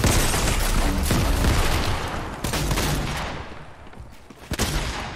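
Heavy gunfire in a Fortnite match, dense bursts of shots and impacts striking the player, loud and continuous with a few sharp louder cracks near the end.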